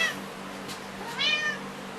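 A studio cat gives a couple of soft, rising meows close by, separated by a short pause, against a quiet room hum.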